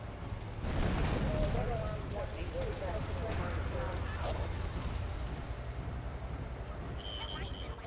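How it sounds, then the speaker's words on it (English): Booming explosions and crackling blasts in the video game GTA 3 Definitive Edition rumble beneath steady background noise, with a dense burst early on and a continuous low roar afterward. "It cannot handle all of these explosions."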